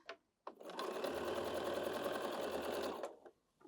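A Bernina 7 Series sewing machine stitches chained quilt blocks in one steady, fast whirring run of about two and a half seconds, close and loud, with brief quiet handling noise before and after.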